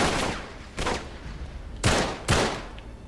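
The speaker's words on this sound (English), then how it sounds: "What are those people shooting at?" Bursts of gunfire from the video game Uncharted 3: Drake's Deception, with two volleys early on and two louder, sharper salvos later, each a dense crackle of shots that fades between bursts.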